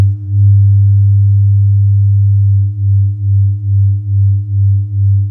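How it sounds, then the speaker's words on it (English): Two pure sine tones near 100 Hz mixed together, a loud low hum that holds steady at first and then pulses in a slow, even beat about once per second. "That's about a 1 hertz beat. So it's about 101 and 100 mixing."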